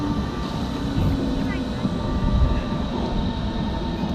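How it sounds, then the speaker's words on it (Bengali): A Berlin ring-line commuter train arrives at an outdoor station platform, giving a steady, loud rumble of wheels and motor with a faint screech, continuous throughout and fairly close. "দূরে একটা ট্রেন আসছে, তোমাদেরকে দেখাই।"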